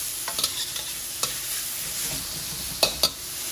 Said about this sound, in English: Get that going, just keep stir frying it.